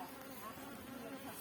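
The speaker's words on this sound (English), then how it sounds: "They were the most calm bees." Honeybees hum steadily around their hive on a hot day, a soft, continuous close buzzing with no voices.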